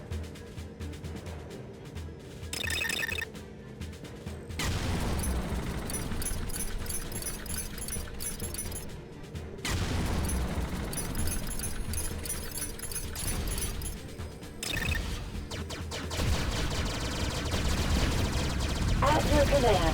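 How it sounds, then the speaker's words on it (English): Missile launcher firing in the space shooter Space Run Galaxy, repeated launch blasts and explosions over a continuous dense rumble of game effects and music, loud throughout. "Missile launcher ready."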